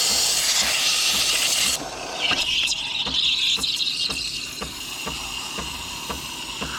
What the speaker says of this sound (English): I heard the sound of the espresso machine starting up